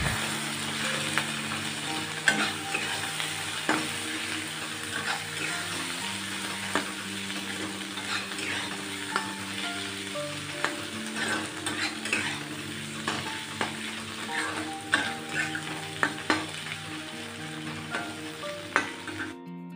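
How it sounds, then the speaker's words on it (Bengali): Dried fish frying in a pan with onion, chili and garlic being stirred in, a steady close sizzle throughout with frequent scraping and clacking of the stirring utensil. "তো এখানে এখন পেঁয়াজ, লঙ্কা আর রসুনটা আমি অ্যাড করে এটার মধ্যে মিশিয়ে নিচ্ছি।"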